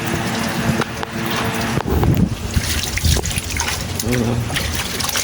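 Water drains from a washing machine hose in a steady trickling stream, running throughout at close range while a voice speaks over it.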